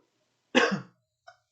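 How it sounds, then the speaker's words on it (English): A single harsh cough, close and sudden, followed a moment later by a faint short sound; quiet before and after. "sorry, I'm coughing a bit tonight"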